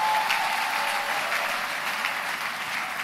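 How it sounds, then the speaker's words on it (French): Steady audience applause from sisters at a church broadcast gathering, a continuous even wash of many hands clapping with no talk over it. "il y a les sœurs qui applaudissent malgré elles"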